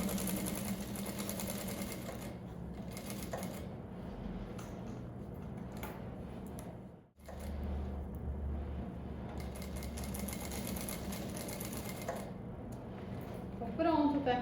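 A sewing machine stitches the four corners of a fabric bag, running in sustained mechanical bursts with a brief pause midway, close and steady, with backstitching at the start and end.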